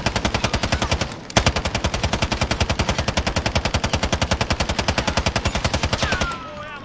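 Rapid automatic gunfire from a video game, loud and continuous bursts with a brief pause near the start, then trailing off at the end.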